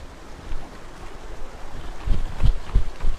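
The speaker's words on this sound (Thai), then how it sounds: "ได้ยินเสียงสู้ซ่าของน้ำตกแล้ว" A waterfall rushes in a valley as a constant broad hiss of falling water, with gusts of wind buffeting the microphone and a few low thumps toward the end.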